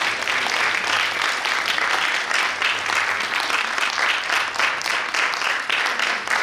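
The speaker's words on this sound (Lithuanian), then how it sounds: "Plojam." Steady, dense applause from a school audience at a youth song and sung-poetry festival, sustained clapping filling the hall at an even level throughout.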